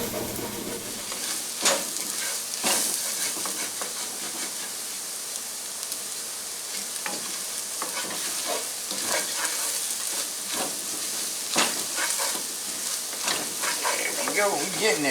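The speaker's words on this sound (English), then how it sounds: "Don't want that flour burning. Gotta cook it down a little bit though." Flour cooks down in a pot for meatball stew, a continuous close sizzle and hiss broken by intermittent scraping stirs against the pot bottom.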